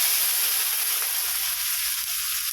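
Puréed tomato, ground in a mixer, hits a hot pan of softened onion and garlic for a Tamil brinjal and drumstick kara kuzhambu, giving a steady, close, loud hiss of sizzling that holds throughout with no talk.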